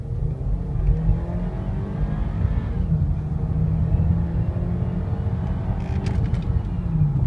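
A 2010 Acura RDX accelerates, its engine and road rumble droning steadily and fairly loud throughout with no one talking.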